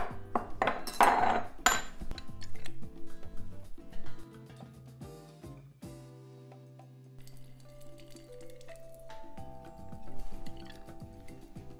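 Bar prep for a non-alcoholic tequila cocktail: a lime is squeezed, then ice and liquid rattle and clink in a cocktail shaker with metallic knocks, close and moderately loud.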